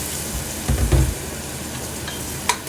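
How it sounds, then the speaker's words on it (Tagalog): Onion and garlic sautéing in a pan for a pork and vegetable stir fry, a steady close sizzle with a short burst of stirring scrapes early on and a sharp clink near the end. "magsimula tayo mag-agisa ng ating sibuyas bawang."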